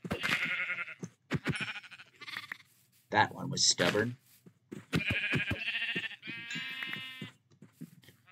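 Sheep in Minecraft bleating repeatedly, several loud, close, wavering bleats in bursts with short gaps, and someone briefly speaking between them.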